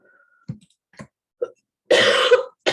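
A few small throaty sounds, then a harsh, raspy cough bursts out close to the listener, followed by another short catch of breath.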